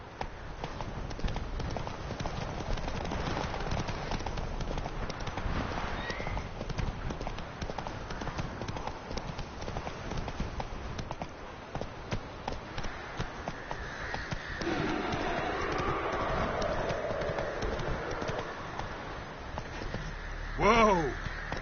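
Roach, the horse in The Witcher 3, gallops with steady, close clip-clop hoofbeats under continuous ambient game sound, with a short snort or whinny near the end.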